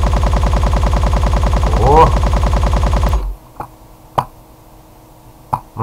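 Rapid gunfire in the SPECTRUM V video game rattles loudly for about three seconds over a droning electronic soundtrack, then stops abruptly, leaving a few sharp isolated shots; a brief exclamation cuts in near the middle.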